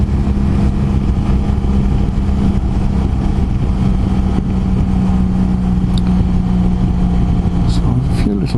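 A motorbike engine drones steadily while the bike is ridden, a loud constant low hum with wind rush throughout.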